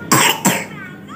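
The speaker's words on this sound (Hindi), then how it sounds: "खांसी भी आ रही है" Two sharp coughs in quick succession from a child, close and fairly loud, followed by a quiet tail of room noise.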